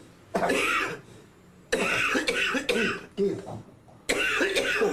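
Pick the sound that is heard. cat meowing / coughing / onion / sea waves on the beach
coughing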